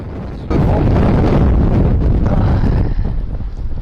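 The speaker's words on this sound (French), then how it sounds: "C'est du vent, c'est rien." Strong wind buffets the microphone in a loud, steady roar, starting abruptly and continuing throughout with low rumbling gusts, while shrimp fishing on the shore.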